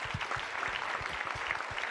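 Faint, steady applause from an audience in a hall at a Vosges innovation event, sustained as a dense wash of clapping without pauses.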